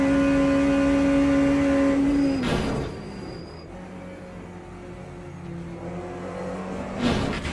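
A Porsche race car accelerates in the Le Mans Ultimate racing game, its engine note climbing steadily and then cutting off abruptly into a lower, rougher rumble, loud and continuous with a brief whoosh near the end.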